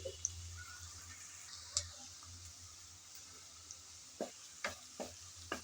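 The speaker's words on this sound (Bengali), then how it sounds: "নেড়ে চেড়ে হালকা ব্রাউন কালার করে পেঁয়াজ ভেজে নেব।" Onions fry in reused fish-frying oil, a soft steady sizzle with a few sharp clicks of a spoon stirring the pan, quiet and close.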